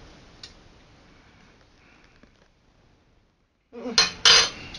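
A metal spoon scrapes and clinks against a bowl of old-fashioned potato salad: a faint tap early on, then after a quiet stretch two sharp, loud scraping clatters close up.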